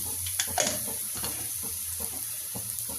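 Bottle gourd pieces sizzle and fry in hot oil in a pan, a steady close crackling hiss with occasional stirring scrapes.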